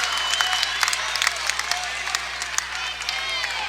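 Crowd applauding and cheering in a gym at a girls high school volleyball match on senior night, Seton against Mason, a steady broad clapping wash that carries throughout with voices mixed in.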